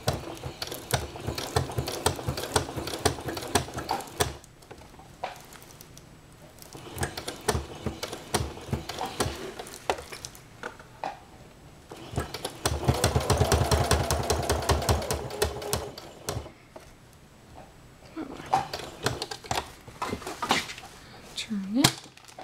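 A sewing machine back-stitches aplix around a curve. The needle runs in bursts of rapid mechanical clatter, stopping and starting again, while someone talks through the work.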